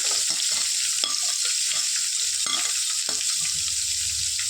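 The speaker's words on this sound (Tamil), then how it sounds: "வதக்கிக்கலாம்." Loud, continuous sizzling of chopped onions frying in a hot pan, with periodic scraping strokes as they are stirred; no voices.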